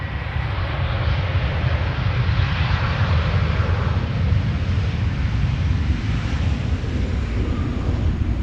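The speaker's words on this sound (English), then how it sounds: "another MAX 8 arriving from Reykjavik" An Icelandair Boeing 737 MAX 8 arriving at Amsterdam Schiphol from Reykjavik, a steady, rumbling jet roar with wind buffeting the microphone, continuous and moderately loud.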